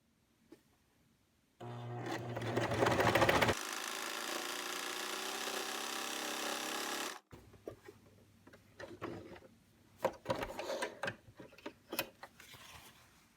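A sewing machine top stitches along a Pojagi seam, running in a loud continuous whir for several seconds before stopping, followed by scattered clicks and handling noises.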